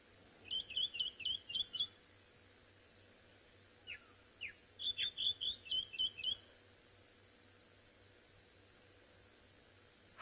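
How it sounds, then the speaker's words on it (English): A white-throated robin-chat sings two clear runs of rapid, repeated whistled notes, a brief pause with a few scattered chirps between them, heard fairly close over a faint steady outdoor hum on safari. "This is a white-throated robin-chat."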